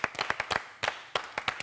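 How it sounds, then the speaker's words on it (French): A small audience clapping at a talk show, a few sparse, uneven claps in short bursts separated by brief pauses, fairly close and moderately quiet. "est-ce qu'on peut applaudir Serge?"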